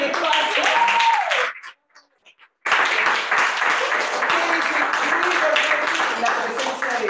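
A gathered audience applauds together, dense steady clapping filling the room, briefly broken by a short pause, mixed with voices and cheering throughout.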